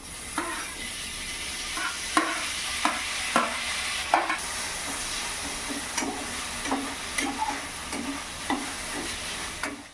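Onions sautéing with salt in a pan as tomatoes go in, a constant close sizzle broken by regular spatula scrapes and taps roughly every half second, with no talking.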